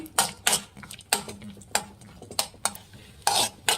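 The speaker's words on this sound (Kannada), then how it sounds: "ಚೆನ್ನಾಗಿ ಫ್ರೈ ಮಾಡ್ಕೊಳ್ಳಿ ಬೆಣ್ಣೆಲಿ" Butter frying in a pan while being stirred, with repeated sharp scraping strokes of a spoon against the pan at an irregular rhythm over a soft sizzle, close and fairly loud.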